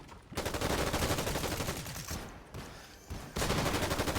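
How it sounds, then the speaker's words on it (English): Rapid hand cannon gunfire in the shooter game Concord crackles in dense bursts, with sharp gaps between volleys, loud and close amid other battle effects. "This is just a hand cannon."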